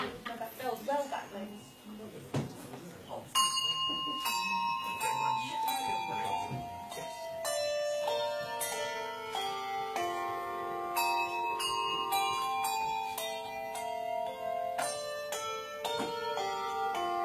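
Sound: bells being rung by a bell-ringing group

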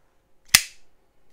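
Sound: Cold Steel folding knife being opened and closed

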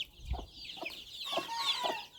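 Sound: chickens clucking in yard

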